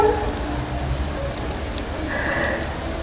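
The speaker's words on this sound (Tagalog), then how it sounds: "lumalakas yung ulan" Steady, heavy rain pouring down, a constant dense hiss with low rumbling, continuing without pause.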